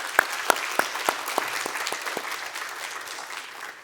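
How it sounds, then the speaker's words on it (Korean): A church congregation claps for the worship team at a Wednesday service, a few sharp, spaced claps at first before settling into a soft, steady patter that gradually fades. "우리 찬양팀 우리 수고하는데 우리 한번 격려의 박수 한번 했으면 좋겠습니다"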